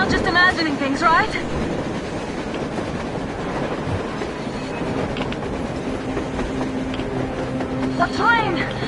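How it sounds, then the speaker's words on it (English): A train in the Metro Exodus video game rumbles past through a blizzard in a steady, dense roar with rhythmic clatter and squealing tones, while voices talk over it. "A train! A damn train on the surface!"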